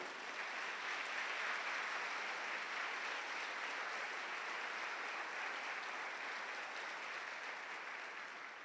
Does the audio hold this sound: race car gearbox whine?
no